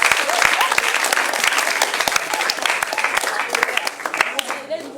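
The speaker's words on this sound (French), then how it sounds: "Est-ce qu'on peut acclamer très fort pour le plus petit?" A congregation at a church service bursts into loud, sustained applause and cheering for the youngest child, with dense clapping and voices throughout before it tapers off at the end.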